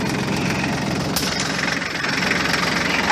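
A Massey Ferguson 1433 4x4 compact tractor engine idles steadily and close by, a continuous even rumble with a brief brighter clatter partway through.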